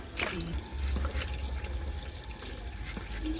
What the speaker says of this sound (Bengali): এটা আবার জল দিয়ে দিতে হবে